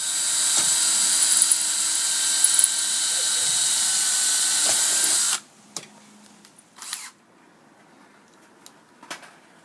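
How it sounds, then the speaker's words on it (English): A power drill driving screws to fasten plywood to a metal table frame whirs loudly and steadily for about five seconds, then stops; a few short bursts and clicks follow in a quieter room. "I'm going to fasten our plywood to our metal frame."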